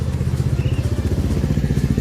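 Royal Enfield motorcycle engine running while riding toward Ranthambhore National Park, a steady, loud, low thumping pulse at a fast, even rhythm, with no voices.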